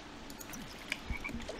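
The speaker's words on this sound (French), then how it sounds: "je crois que j'ai entendu une grenouille" A frog in The Sims 4 video game gives a few short, faint croaks against a soft background of in-game ambience.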